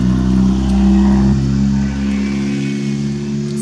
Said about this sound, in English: I knew that car was gonna be loud